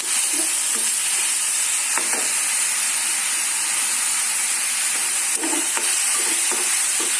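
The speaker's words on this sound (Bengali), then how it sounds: "সুন্দর করে কষিয়ে নেব।" Moringa leaves stir-fry in a hot pan with spices, giving a loud, steady sizzle and hiss throughout, broken by occasional scraping stirs and no voices.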